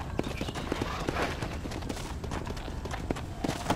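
Horse hooves clip-clop in a quick trotting rhythm in Red Dead Redemption, with a busy game background and a faint voice underneath.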